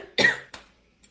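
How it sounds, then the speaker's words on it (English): A person coughs in a brief fit, one strong harsh cough followed by a smaller second cough and a faint third, close and alone. "total coughing fit on the live show"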